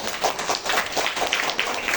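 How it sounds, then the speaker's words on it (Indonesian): A classroom full of students clapping for a student group, with quick claps landing in a rough, fairly even rhythm at moderate loudness, close and without talk. "Tepuk tangan untuk kelompok 2"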